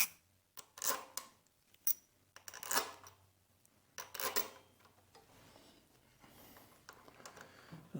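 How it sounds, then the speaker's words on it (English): Bolts dropped back into a Royal Enfield Bullet 500 B5 engine, giving a series of faint, close metallic clinks and rattling scrapes at irregular intervals with quiet gaps between. "Let's drop the bolts back in."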